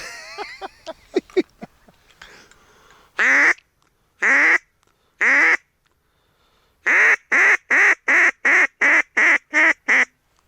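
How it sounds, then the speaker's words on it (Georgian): Ducks quacking in bursts at Jandari Lake, Georgia, during a duck hunt: a few scattered calls, then a rapid steady run of loud, evenly spaced quacks close by, no talking. "გამოცდილი იხვის ხმა ესეთი."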